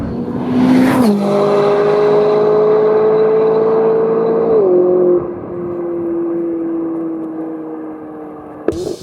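A McLaren 570S sports car engine screams up through the revs in rising sweeps, with a sharp snap at each gear change, then drops back, close and loud, before ending with a short crackle.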